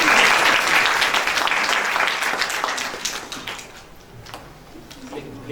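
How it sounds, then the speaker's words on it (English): Audience at a young writers' poetry conference in Pakistan applauding warmly, loud at first and then tapering off over a few seconds to a few scattered claps. "Please give a huge round of applause for Tajalla Qureshi."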